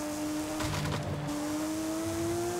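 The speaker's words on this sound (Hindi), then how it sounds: "आवाज सुन रहे हो नेचुरली एस्पिरेटेड इंजन की" Porsche Carrera S with a naturally aspirated engine holding revs for a launch control start, a steady droning tone with a brief surge and higher rasp midway, then settling back into a sustained hum.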